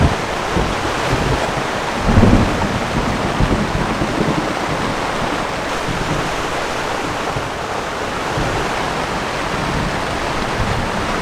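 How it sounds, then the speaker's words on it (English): Torrential thunderstorm rain hammers a tent at an airshow campground, a loud, dense, unbroken hiss of downpour with one brief louder gust or drum near the start and no voices. "We were gonna make a run for it, but then a torrential downpour started"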